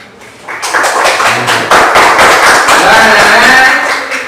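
Elementary school classroom applauding a student group, a dense burst of many hands clapping loudly together after a brief quiet start, sustained and close, fading slightly at the end.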